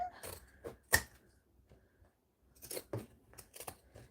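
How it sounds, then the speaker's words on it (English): Zigzag pinking scissors trim a fabric seam allowance in several close, sharp snips, a few in quick succession after a short pause, quiet and without speech. "Zigzag scissors."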